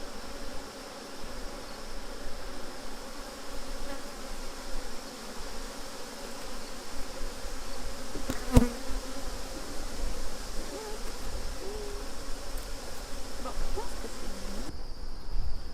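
Honey bees swarm around an open hive during an official provincial inspection, a continuous close buzzing drone with one brief knock midway and no voices.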